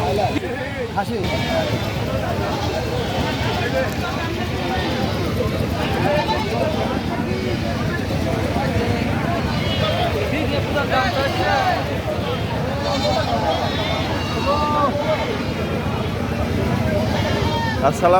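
Goats bleat again and again amid the steady crowd din of a busy cattle and goat market in Pabna, with people talking continuously nearby.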